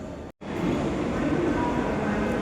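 Metro train at a station, a steady low rumble with broadband hiss that fills the clip after a brief silent gap near the start.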